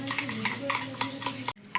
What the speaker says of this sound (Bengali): এই 1 চামচ নারকেল তেল দিয়ে দেবো, দিয়ে এর সঙ্গে আমি ভালো করে ফেটিয়ে নেব